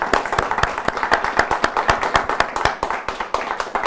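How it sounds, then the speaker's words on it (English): A small audience at a community panel on distracted driving gives a round of applause, individual hand claps distinct and close, rhythmic and fairly loud, continuing evenly throughout without talk. "Everybody, if we could give them a nice round of applause."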